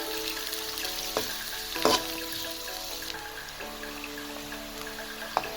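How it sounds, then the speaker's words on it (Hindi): A steady, gentle sizzle of onions frying to light golden brown in a hot pan, with a few soft clicks and scrapes from stirring. "प्याज को 3 से 4 मिनट तक फ्राई करें, लाइट ब्राउन गोल्डन ब्राउन करें।"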